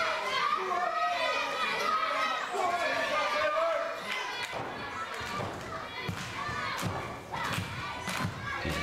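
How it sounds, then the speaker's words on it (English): A crowd at a W3L wrestling show shouts and cheers, including children's voices, with thuds from the ring action, all under steady talking. "You can hear the crowd here."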